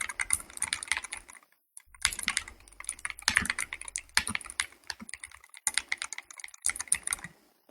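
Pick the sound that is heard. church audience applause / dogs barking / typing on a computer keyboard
typing on a computer keyboard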